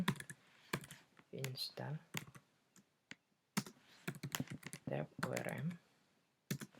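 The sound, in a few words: typing a command on a computer keyboard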